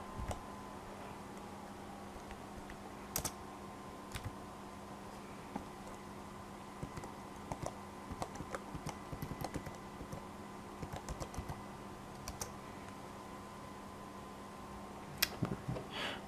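Light, quiet tapping on a computer keyboard in irregular bursts, with scattered keystrokes and a few louder clicks over a steady low background hum.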